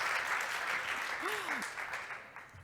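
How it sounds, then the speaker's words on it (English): Audience applause at a skills and continuous learning event in Helsinki, a steady wash of clapping from a crowd that slowly fades, with a brief voice sounding through it. "Give yourself a round of applause."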